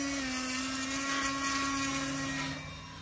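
An Eflite Conscendo Evolution RC plane's electric motor on a 4S battery at takeoff, a loud, steady high-pitched whine with a sustained tone that drops and fades slightly as the plane climbs away.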